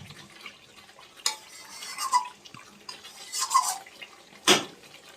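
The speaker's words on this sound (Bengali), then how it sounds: "তো দেখুন বন্ধুরা, চিকেনটা আমি সুন্দরভাবে কষিয়ে নিচ্ছি।" Spicy red chicken being stirred and fried in a pan, with soft scraping and stirring strokes over a low background and a few sharper clinks of a utensil against the pan, close and fairly quiet.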